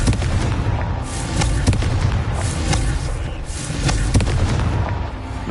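Fire spell explosions in the Hogwarts Legacy video game, a dense run of deep rumbling booms and crackling bursts, loud and continuous, swelling in a few heavier pulses.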